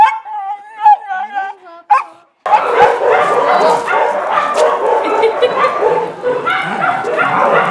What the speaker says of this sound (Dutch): Es un perro que puede estar con cualquier tipo de perros.